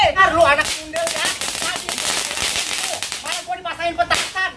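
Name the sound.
firecrackers being set off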